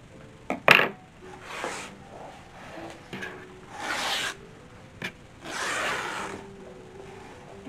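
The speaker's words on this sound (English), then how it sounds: "I think we're going to cut the veil." Fabric being cut for a Victorian mourning veil about a yard long and 45 inches wide. A sharp clack comes first, then several soft, breathy swishes of the cloth and shears at close range, with quiet pauses between them.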